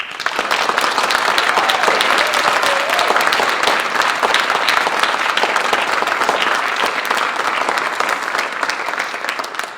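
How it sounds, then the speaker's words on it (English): A large audience at a Class of 2020 Creative Technologies graduation ceremony claps loudly and continuously, a thick crackling roar of hands sustained evenly for several seconds without speech. "So let's applaud"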